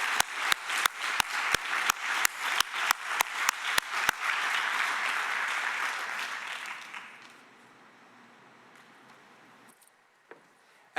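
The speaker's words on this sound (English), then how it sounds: "if you can all join me in a final applause" Audience applause closes a health conference, opening with sharp, regular loud claps that merge into a dense wash of clapping, then fade to quiet room tone with a few stray claps near the end.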